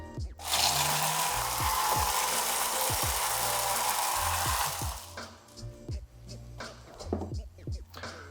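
A milkshake blender whirs loudly in one sustained burst, mixing a grapefruit cocktail with crushed ice, then cuts off, leaving quieter clinks and handling noises.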